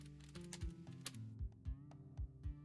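Computer keyboard keys pressed in a short run of soft, close taps, several distinct clicks spaced unevenly over a low steady hum.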